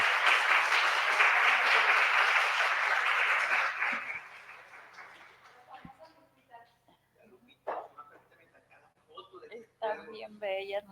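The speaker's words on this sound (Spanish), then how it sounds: "Un aplauso también, por favor." At a symposium talk, the audience gives a thick burst of applause for a woman doctor who has just presented. It lasts about four seconds and then dies away into scattered talk and handling noises.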